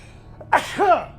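A single sharp sneeze, close and loud, over faint background hum.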